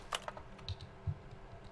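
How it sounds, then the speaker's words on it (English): Soft, quick keyboard typing clicks in The Stanley Parable, a short burst of several faint keystrokes followed by a few scattered taps, quiet and close with no talking. "Wait, so the clicking actually does keyboard sounds even though I'm nowhere near a PC?"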